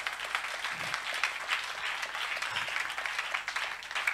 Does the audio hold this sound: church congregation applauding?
yes